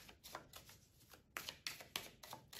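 Oracle cards being shuffled by hand for a reading, a quick run of crisp papery riffles and slaps, close and fairly quiet, with bursts growing sharper toward the end.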